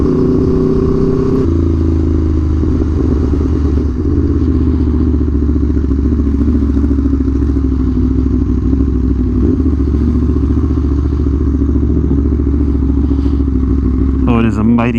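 An Aprilia Tuono V4 1100 Factory with an SC Project CR-T exhaust idles at a traffic light on a hot, sunny day, a loud, close, steady burble that continues throughout with a brief flare at the very end.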